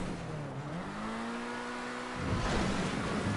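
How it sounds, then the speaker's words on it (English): A car engine in a GTA V online stunt race revs in a steady, rising whine, then drops off and gives way to a louder, rougher roar of driving noise. "trying to get the engine revs up nice and high as quickly as possible"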